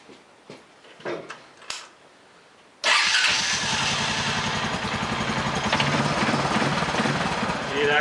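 Small engine fitted with an aftermarket CDI box: a few clicks and cranking attempts, then it catches and runs steadily with a rough, loud, slightly uneven note, close by.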